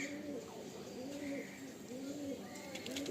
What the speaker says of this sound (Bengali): ভারী পায়রা।